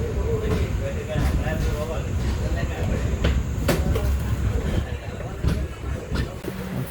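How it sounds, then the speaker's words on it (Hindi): A train pulls into Vellore Cantonment station, its steady loud rumble broken by sharp metallic clicks and clanks, with muffled voices in the background. "भेल्लोर कैंट में हमारा अराइवल हो रहा है।"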